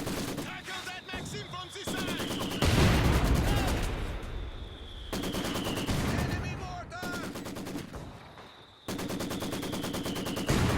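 Repeated bursts of gunfire and machine-gun fire from Company of Heroes 2, a WWII real-time strategy game, in a 1v1 match, loud and dense with rattling volleys, sharp reports and a whining shell streak, over a constant battlefield din.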